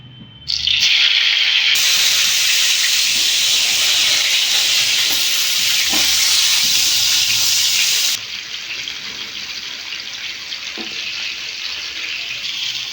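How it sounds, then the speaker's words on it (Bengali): Eggplant slices frying in hot white oil in a pan give a loud, steady hiss and sizzle, strongest for the first several seconds and then settling to a slightly lower continuous crackle, with no talking. "তেলটা গরম হয়ে গেছে বেগুনগুলো আমি ভেজে"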